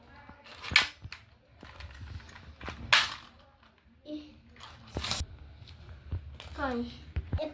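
Video-game gunfire pops out in sharp, isolated cracks, a handful spaced a second or two apart, while a voice keeps talking over the shots.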